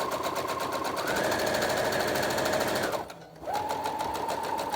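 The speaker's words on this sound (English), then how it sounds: "Just lock in my stitching, and then I'm going to keep going all the way down." Sewing machine stitching a straight seam on a cushion cover, a steady rapid whirring hum that rises briefly in speed, stops for a moment and then resumes, close and loud with no talking.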